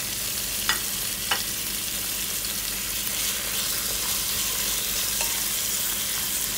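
Tomatoes sautéing in a pan for a clam dish give a steady, close frying sizzle, with a couple of brief clicks of a utensil stirring, and no talking.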